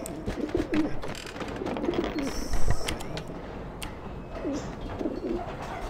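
Pigeons coo repeatedly in the game Alice Madness Returns, soft rolling calls recurring every second or two over busy ambient game noise.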